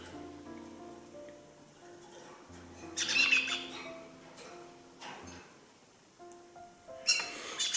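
Young Indian ringneck parakeets and kakarikis squawk and chirp in short, shrill bursts at close range, with quieter tonal chatter between the louder calls.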